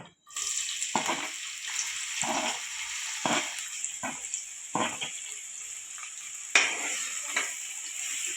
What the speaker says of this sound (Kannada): ಇವಾಗ ಆಯಿಲ್ ಬಿಸಿ ಆದ ತಕ್ಷಣ ನಾವು ಇದಕ್ಕೆ ಸಣ್ಣಗೆ ಹೆರಿಸಿರುವಂತಹ ಎರಡು ಆನಿಯನ್ಸ್ನ ಸೇರಿಸ್ಕೊಳ್ಳೋಣ